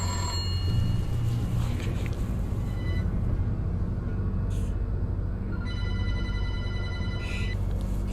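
An old unplugged telephone rings in bursts of bell tone separated by gaps, heard over a steady, loud low rumble of background noise.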